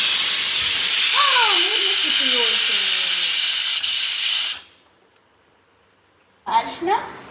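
Curry leaves dropped into hot oil give a loud, steady sizzling hiss that cuts off abruptly, under a voice, with more talk after a brief silence.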